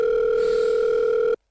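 A telephone sounds a steady, loud electronic tone that holds evenly for just over a second and then cuts off abruptly into silence.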